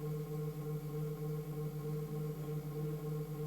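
Sonification of the Sun's core oscillations, heard as a faint steady drone of layered sustained tones over a hissing noise bed, unchanging for a few seconds.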